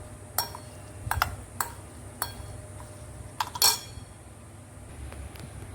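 Spices being mixed into raw mango pickle in a bowl, heard as a handful of sharp clinks and knocks against the vessel, spaced irregularly over a faint steady background, close by, without speech.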